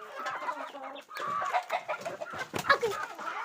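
Chickens cluck in short, irregular bursts close by, a busy run of bright clucks and squawks with a brief pause in between, fairly faint overall.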